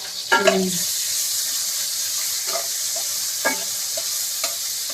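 Onion, chili and garlic frying in oil in a home kitchen, a steady soft sizzle throughout with a few brief clatters of stirring near the start and scattered faint taps later, no talking.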